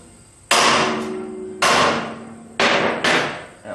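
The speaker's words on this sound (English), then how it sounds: "I'm going to tap that with a hammer." Four sharp metallic hammer blows strike a car's front suspension while a shock and spring are removed, each hit ringing briefly before decaying, irregularly spaced and close to the microphone.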